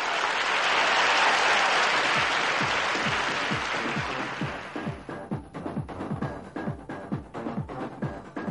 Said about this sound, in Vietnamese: một tràng vỗ tay thật lớn cho bạn Quang Trung